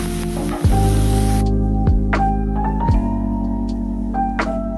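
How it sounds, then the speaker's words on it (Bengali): Cauliflower, radish and eggplant fry together in a pan, giving a steady close hiss and sizzle with a few sharp clatters or stirs cutting through, no talking. "তো ফুলকপি, মূলো আর বেগুন একসঙ্গে ভাজা চাপিয়ে দিয়েছি, ভেজে রান্না করব।"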